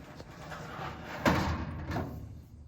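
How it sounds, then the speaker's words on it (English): A metal drawer slides along the channels of a pegboard rolling tool cart in a garage and clicks into place, with a scraping glide and a sharp snap near the middle, close and moderately loud. "Now I can just push it in all the way and it'll click in."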